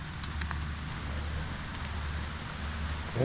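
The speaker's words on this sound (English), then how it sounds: "And listen to that rain." Steady rain falls around an old house in Hartland, Maine, a dense continuous patter with a few sharper drips standing out near the start.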